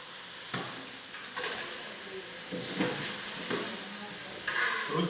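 Potatoes and onions for a potato palya go into a hot pan at a Kannada school kitchen. They sizzle steadily with a hissing fry, broken by several louder scraping stirs, close up and without talk.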